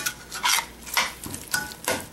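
Beaten eggs with dried beef, Mexican machaca, stirred in a pan: rhythmic scraping and clinking strokes of a utensil against the pan, about five passes, over a faint sizzle, close and moderately loud.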